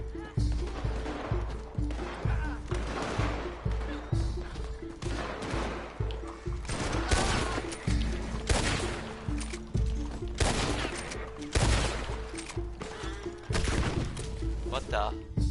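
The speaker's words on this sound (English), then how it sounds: "he's using a shotgun there" Shotgun gunfire in Red Dead Online, with repeated loud blasts at an irregular, fairly steady pace over about fifteen seconds against busy game ambience and music.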